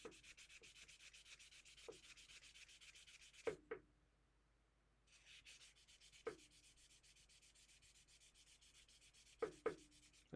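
Stone sculpture being hand sanded, using a popsicle stick as a backing, gives a close, soft rhythmic scratching in quick repeated strokes, broken by a short pause and a few sharp taps.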